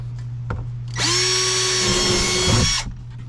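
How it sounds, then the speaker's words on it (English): A cordless drill whines at high speed for about two seconds as it bores drain holes through a plastic tote, then winds down. "I'm going to drill drain holes in all these totes all the way around"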